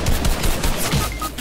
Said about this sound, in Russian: вот он по тебе из пулемета фигарит